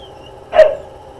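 One short bark from a dog indoors, heard once in a quiet room.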